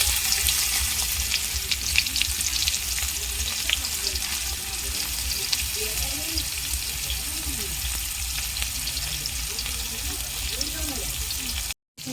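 Onions sizzle steadily in hot oil with a bay leaf in a pan, a continuous dense frying hiss with faint stirring scrapes, close and fairly loud throughout.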